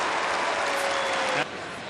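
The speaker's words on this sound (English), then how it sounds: "you can hear the roar from the crowd" A football crowd at a Geelong Cats versus Melbourne AFL match in 2011 roars after a goal, loud and broad under a commentator's voice, easing off toward the end.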